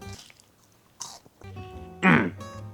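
Crunchy bites and chewing of triple-fried chips, up close, with sharp crackly bursts between moments of speech and a loud crunch near the end.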